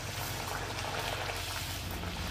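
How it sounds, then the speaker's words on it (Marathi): Konkani-style vade frying in hot oil, a steady dense bubbling hiss running unbroken and fairly close, with no talk. "वडे तळून घेऊयात।"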